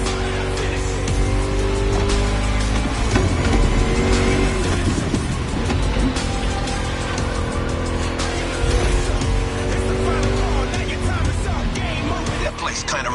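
V8 race car engine in The Crew Motorfest, roaring continuously at high revs through a lap, with shifting pitch, occasional tire squeal and a steady dense drone under a talking voice.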